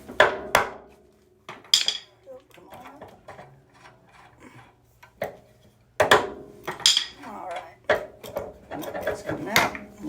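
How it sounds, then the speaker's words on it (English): Ball peen hammer knocking loose the Pitman arm steering linkage on a 1955 Chevrolet Bel Air chassis, several sharp metallic blows spaced apart, close, between quieter shop handling sounds and brief talk. "give them a little pop with the ball peen"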